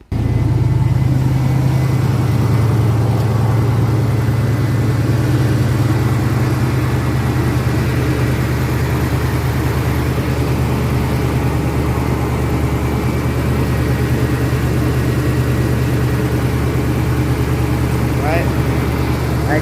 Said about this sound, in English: we're going to start the engine, so let's give it a shot